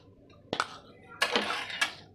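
A metal spoon stirs red chili powder and turmeric into warm oil for a raw mango pickle, tapping the pan in three distinct close clinks with scraping between them.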